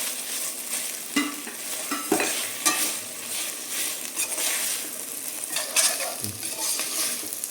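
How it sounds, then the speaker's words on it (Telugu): Vegetables for paneer biryani being stir-fried in a pan, a continuous close sizzle broken by repeated scraping strokes and occasional light knocks of the spatula against the pan. "రిమైనింగ్ వెజ్జెస్ కూడా వేసుకొని ఫ్రై చేసుకోవాలి"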